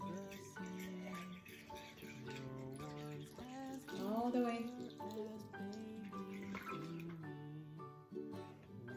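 Water pours into a container while a child makes a homemade body wash, a soft steady trickle heard faintly beneath close talking between a parent and child.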